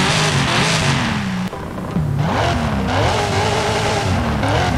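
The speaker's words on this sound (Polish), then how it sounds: "I teraz wydech, to jest najciekawsze." A race car engine revs hard in Forza Horizon 5, its pitch sweeping up and down through several throttle bursts with a brief dip midway.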